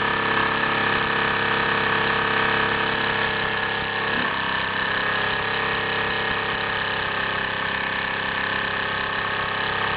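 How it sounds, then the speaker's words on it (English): A Mamod Minor No. 2 toy steam engine from around 1963 drives a small model workshop, giving a constant, close mechanical chugging hum with rhythmic whirring that holds steady throughout without any speech. "There you have it, a Mamod Minor number 2, somewhere around 1963, driving a simple little workshop"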